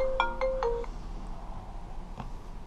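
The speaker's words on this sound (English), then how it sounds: "she's going to ring it now just to test to see if we're getting any" A short iPhone 5 electronic ringtone melody of a few clear beeping tones, fairly faint over a low background hum, followed by a soft click.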